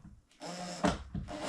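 A power drill drives screws into the wooden baffle of a DIY 18-inch band-pass subwoofer, heard as short, quiet whirring bursts with a brief thump of the bit seating in the wood.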